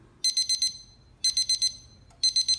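Over-temperature alarm on a digital thermometer probing a steaming electric kettle, beeping in three bursts of rapid high-pitched pulses, four beeps each, loud and close over a low background hum.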